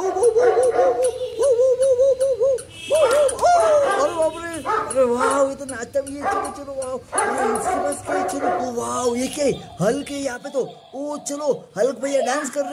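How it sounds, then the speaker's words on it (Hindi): A dog barks and yips repeatedly in short bursts, close by, mixed with excited human talk and exclamations. "अरे कुत्ता तो भौंक रहा है"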